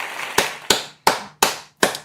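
Applause sound effect played during a baseball watch-along livestream, heard as five sharp, separate clap-like bursts spaced about a third of a second apart, each fading quickly, with no voices over them.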